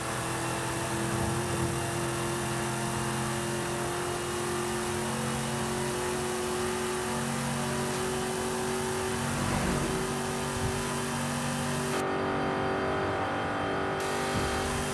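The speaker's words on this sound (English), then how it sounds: "Naturally aspirated, you know? Good old V8 power." A naturally aspirated V8 car engine in the video game Forza Horizon 5 hums and revs continuously at a sustained high pitch, loud and steady, with slight shifts in tone throughout.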